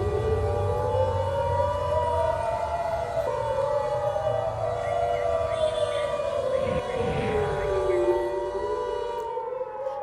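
An air raid civil defense siren sounds during a mock drill in Maharashtra, a loud, continuous wail that rises and falls in slow sweeps, with overlapping tones throughout.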